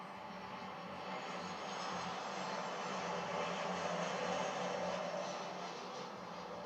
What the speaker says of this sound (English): Southwest 1065 flying in from San Jose, California, a 737